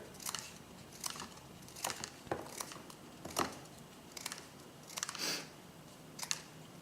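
Scissors trimming small pieces of material into a container, a string of crisp, faint snips and crunchy cuts at irregular intervals, close by, with no talk.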